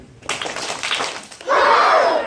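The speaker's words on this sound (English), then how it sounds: "should we give ourselves a hug clap?" A school audience performing a hug clap, with a burst of scattered, uneven claps and taps that swells into a louder, denser round of clapping and cheering voices.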